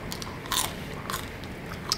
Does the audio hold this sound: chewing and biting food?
yes